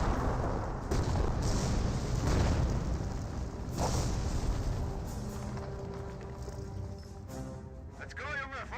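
Wurfrahmen rocket barrage explosions in Company of Heroes, a dense run of booms and blasts across a rumbling battlefield, with a voice talking over parts of it and softer battle noise near the end.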